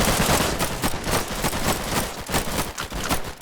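Gunfire rattles nonstop in the WWII shooter Warfare 1944 during a massive assault, with dense overlapping bursts of rifle and machine-gun shots that sound loud and close and never let up.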